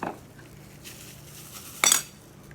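A spoon works ground masala into a squid marinade in a pan, giving soft scraping with one bright metallic clink partway through, fairly quiet against a low background hum.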